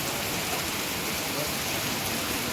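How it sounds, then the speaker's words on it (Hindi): Heavy rain pours down steadily on a pilgrimage route at Darsu Bend in the mountains, a dense continuous hiss filling the scene at close range, with no talking. "ये देखिए भाई यहाँ पर दरसू बैंड पे बहुत ज़्यादा तेज़ बारिश हो रही है"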